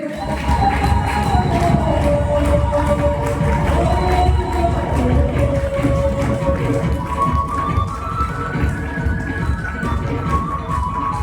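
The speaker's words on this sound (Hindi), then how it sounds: "आप सभी के जोरदार तालियों के साथ इनवाइट करना चाहूंगा" A crowd applauds and cheers to welcome a speaker onto a stage, dense continuous clapping with some shouts, steady and loud throughout.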